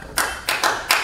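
Three sharp bursts of hand clapping as a greeting during a Betawi lenong folk theatre performance, evenly spaced and close, with no talk over them.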